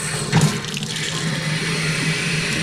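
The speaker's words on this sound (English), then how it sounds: "Flush your new filters by turning on your cold water from the closest faucet." Cold water running steadily from a household faucet to flush newly replaced whole-house filters, a constant close splashing rush with a slight sputter near the start.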